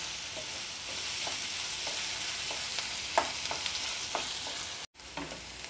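Sliced onions fry steadily in hot oil for kandavani, an onion curry, with a continuous close sizzle broken by scattered scraping stirs and one brief dropout near the end.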